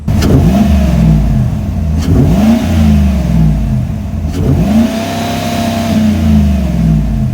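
Chevrolet Silverado pickup with a cold air intake fitted with its plugs in, its engine revving loudly in three rising and falling surges with sharp clicks between, close and steady with no talking.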